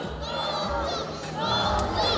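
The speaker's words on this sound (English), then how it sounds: "Now for the boys, let me hear you cheer for Blue. Come on, boys, say Go Blue! Go Blue!" Boys in the audience at an aviary bird show chant a team cheer in unison, a loud crowd of young voices shouting in repeated rhythmic bursts with children's cries mixed in.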